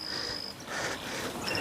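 A grasshopper chirps with a thin, high, steady trill, broken off and then resumed, faint against a soft outdoor background.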